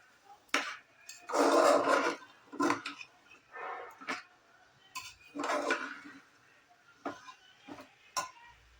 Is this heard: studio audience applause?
no